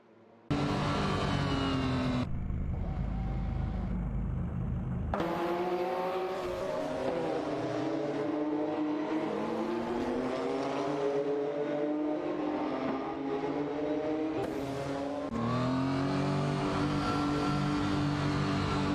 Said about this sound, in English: Meanwhile, Duffdad, Tenkerman in 704, and Feds are fiercely fighting for the 5th position, with Duffdad and Tenkerman in 704 in a Porsche 911 GT1 and Feds in the McLaren F1